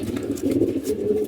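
A pigeon coos in a backyard pigeon loft, low soft burbling calls repeating steadily and close, with faint background noise throughout.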